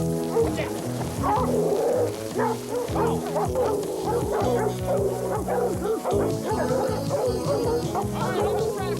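A dog barks during a hog hunt, deep repeated barks and yips mixed with loud overlapping music and voices, the barking dense and close throughout.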